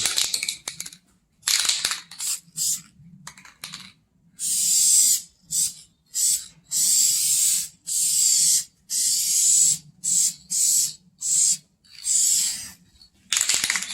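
A spray paint can hisses in short bursts as a coat goes onto a rusted Foxbody Mustang hatch. The sprays are close and sharp, some brief and some held for a second or more, with quiet gaps between them.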